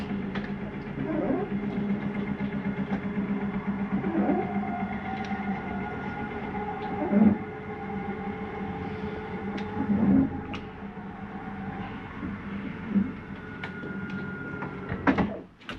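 A Catalina 343BHTSLE travel trailer's bedroom slide-out retracts with a steady mechanical motor drone and rumbling hum running throughout, broken by a few louder clunks and thumps as the room draws in, with no talking.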